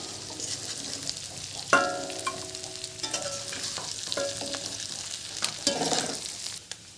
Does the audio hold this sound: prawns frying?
yes